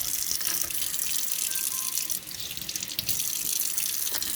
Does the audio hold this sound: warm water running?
yes